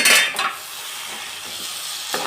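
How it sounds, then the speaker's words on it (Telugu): Cabbage curry stirred in a pan, with a burst of scraping and clinking at the start, then a low steady sizzle and a few soft spoon scrapes near the end. "చిన్నగా మొత్తం కలిసేలా కలుపుకోవాలి"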